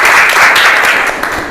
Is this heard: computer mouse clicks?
no